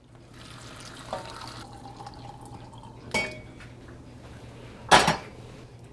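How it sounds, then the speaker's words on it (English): Hot water poured into a deep saucepan in a home kitchen, a soft low wash of liquid under room noise, broken by a few sharp metallic clanks of the pan and utensils. "And I'm gonna add some hot water."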